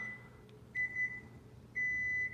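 Two short electronic beeps from a 2022 Kia Carnival power tailgate closing sound close by over quiet background hum, the second one longer and steady.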